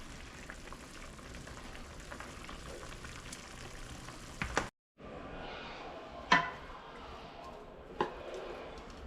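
Hot liquid drains from a pan of steak cooked with onions and peppers, a steady sizzling hiss that cuts out briefly, then resumes with a couple of sharp clinks.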